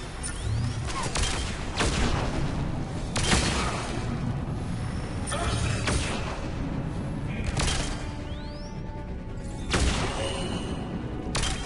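Rapid, dense gunfire with repeated sharp bursts and booms runs continuously and loud throughout, sounding like an intense firefight in the game Mass Effect 3.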